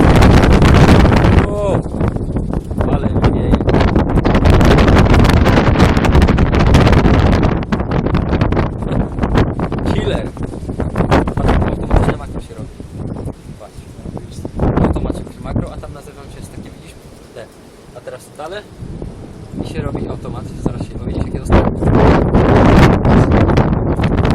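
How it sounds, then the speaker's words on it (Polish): Heavy wind buffeting a microphone, loud low rumbling gusts throughout, with voices talking intermittently over it. "Niech ten wiatr przeminie."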